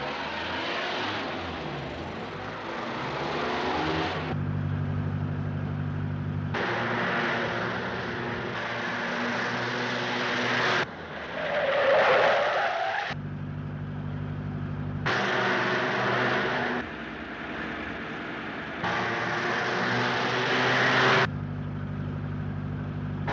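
A 1937-era car drives fast, its engine roaring steadily in repeated surges with shifting pitch as it speeds along, loud and close, with no voices.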